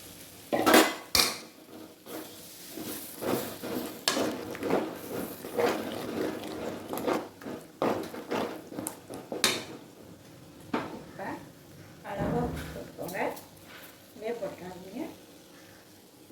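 Ingredients with tomato are sautéed and stirred in a metal pan for vadakari, with repeated clanks and scrapes of a spoon against the pan, close by, under intermittent talking.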